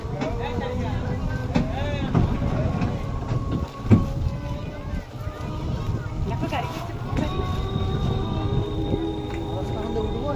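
Train running on rails near the coast at Digha, a steady rumbling ride from inside a carriage with clattering bumps and a brief high whine, while people talk throughout.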